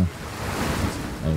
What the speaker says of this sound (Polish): Ej, wodospad.